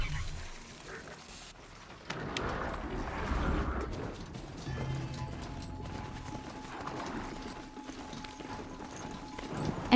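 Horse hooves gallop in Horizon Zero Dawn, a steady clip-clop rhythm running under game music and ambience for most of the stretch, with a voice talking at times over it.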